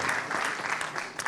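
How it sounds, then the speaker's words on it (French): Applause from the audience at an annual round-table meeting, a dense burst of many hands clapping close and loud, continuous for its whole short span. "Bravo, on peut applaudir déjà ces images qui donnent envie."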